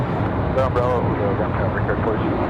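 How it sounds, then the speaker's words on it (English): An Embraer E-175 jet rolls out after landing at Raleigh-Durham International Airport, giving off a steady, loud, broadband engine roar with a continuous rumble, while someone talks over it. "that E-175 getting off the runway very, very early"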